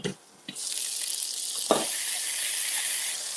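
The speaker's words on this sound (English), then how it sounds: "So we want to get our potatoes to kind of brown like this, okay?" Potatoes browning in a skillet give off a steady, bright sizzle that starts after a couple of soft knocks and carries on evenly, with one brief clatter midway.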